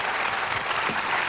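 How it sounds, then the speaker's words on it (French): A television studio audience at a French music show claps in a sustained, dense burst of applause, loud and unbroken from start to finish. "continue d'applaudir, puisque vous aimez"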